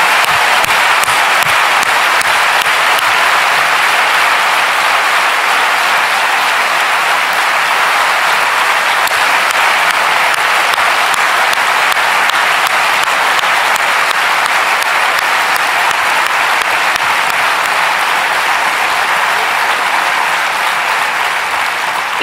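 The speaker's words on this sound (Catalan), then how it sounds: "ha de començar amb un fort aplaudiment, amb tota la intensitat del món" Loud, sustained applause from a large crowd at a political campaign rally, dense and steady clapping filling the whole stretch without letting up.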